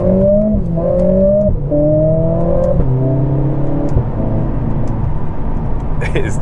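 A 2022 Mercedes CLA45 accelerating hard on an open road, engine note rising and dropping sharply with each quick paddle-shifted gear change, several upshifts in a row, loud and close from inside the car.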